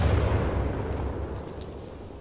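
A Titanfall 2 grenade detonation rumbles loud and close, a deep low boom already underway that slowly fades out over a couple of seconds.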